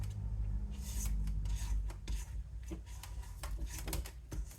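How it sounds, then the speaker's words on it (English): A spatula scrapes powdered sugar down the inside wall of a mixing bowl while making royal icing, giving repeated rubbing, rasping strokes over a steady low hum from a stand mixer. "I'm just gonna scrape that powdered sugar down the side."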